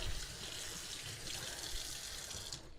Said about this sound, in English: you just want to be safe and give it a nice good rinse